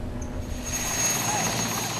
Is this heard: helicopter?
yes